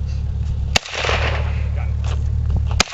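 Two sharp, loud gunshots ring out at a target in an outdoor swamp setting, spaced about two seconds apart over a steady low rumbling background.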